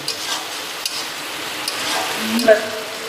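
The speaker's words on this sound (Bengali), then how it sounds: "ভালো করে কষিয়ে নিই" A spice paste for rohu fish do pyaza is stir-fried in oil in a pan, giving a faint, steady sizzle with light scraping and a few clicks of the spoon.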